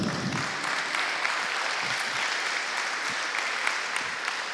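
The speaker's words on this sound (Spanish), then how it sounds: "puede darle un aplauso al Señor" A church congregation breaks into sustained applause, a broad wash of many hands clapping at a steady, moderate level with no voices standing out.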